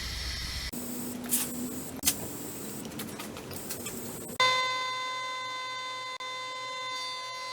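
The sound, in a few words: white spray paint sprayed onto a wooden sign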